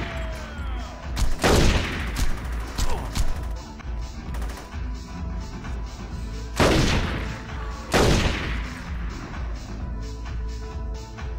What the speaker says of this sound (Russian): они выдерживают по 2-3 выстрела из снайперской винтовки